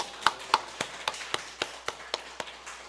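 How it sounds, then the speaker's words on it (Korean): A few people in a church clap in slow, steady unison, about ten crisp claps spaced evenly and close by, with no voices over them. "우리 하나님 앞에 영광 박수 돌리겠습니다."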